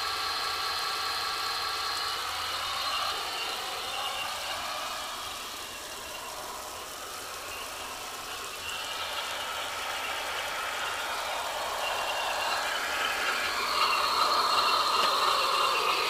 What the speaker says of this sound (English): It's still warming up those jet engines.